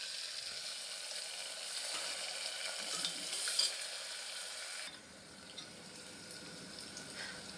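Onions and tomatoes sauté in a pan, giving a faint, steady sizzle and hiss that dips slightly partway through, with no talking.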